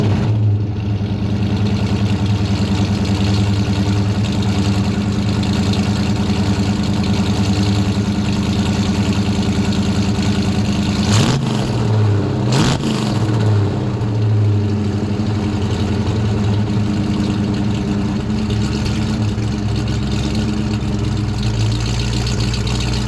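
A 1993 Ford Mustang Foxbody with a swapped 5.0 V8 and loud aftermarket pipes idles steadily and close, with a steady exhaust drone broken by two sharp revs partway through.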